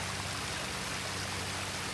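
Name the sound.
water flowing in a pondless waterfall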